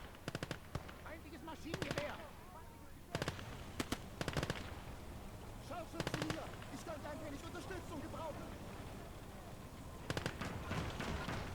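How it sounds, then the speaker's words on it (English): Machine gun fire in the WWII strategy game Gates of Hell, Battle of Moscow: several short, sharp rattling bursts spaced a few seconds apart over a steady battle din, with someone talking throughout. "That's another machine gun."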